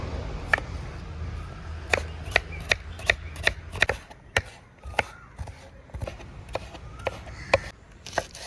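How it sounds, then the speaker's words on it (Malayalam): A knife chops onions, tomatoes, garlic, green chillies and ginger on a board in sharp, distinct strokes, sometimes in quick runs and sometimes spaced out, close and fairly quiet. "അത് നമുക്ക് പെട്ടെന്ന് അരിഞ്ഞെടുക്കാം."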